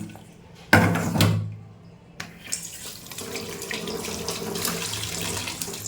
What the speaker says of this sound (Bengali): চলো মাছগুলো এবার ধুয়ে ফেলি